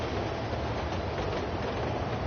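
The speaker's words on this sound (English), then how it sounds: "That's the Amtrak! There's the Amtrak!" An Amtrak train in the video game The Crew 2 rumbles past as a steady, dense, broadband roar, with no speech over it.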